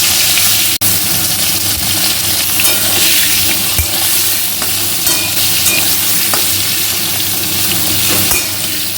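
Eggplant pieces frying in hot oil left over from frying fish for a Bengali fish curry, a loud, dense, unbroken sizzle that stays close and steady throughout.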